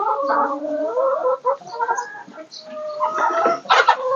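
Hens scratching and clucking in fresh straw laid down in a coop, with a steady run of overlapping clucks and murmurs at close range and a louder burst of squawking near the end.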